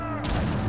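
Gunfire in Resident Evil 5 co-op play comes as a sudden burst of loud shots after a brief quieter moment. The rattling volley carries on with a heavy low boom underneath.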